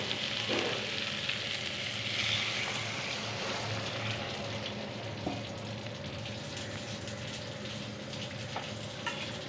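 Hilsa fish pieces cook in a pan after water is poured in, giving a steady, soft frying hiss and bubbling simmer. A few faint clinks break it up, and no one speaks.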